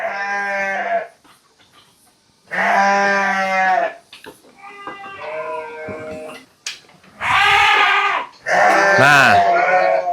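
Sheep bleat loudly and repeatedly at close range on a farm as one is caught for shearing, several long wavering cries separated by short pauses, with a brief spoken word among them.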